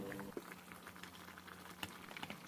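Vegetarian bitter melon soup with pickled mustard greens and tofu bubbling in a pot, a soft, steady simmer with scattered small pops and bursts of bubbles, fairly quiet and close, with no voices.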